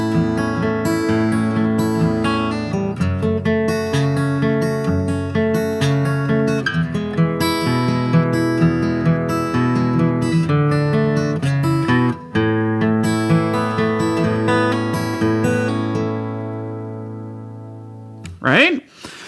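An acoustic guitar fingerpicks a song, with steady arpeggiated chords ringing clearly for most of the passage, close and fairly loud, then fading to a brief pause and one final strum.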